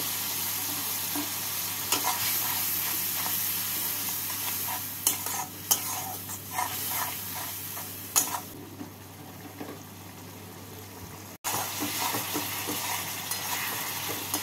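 Spice paste with a little water for a rui fish and potato curry being sautéed in a pan, a constant close sizzle broken by repeated spoon scrapes and stirring bursts.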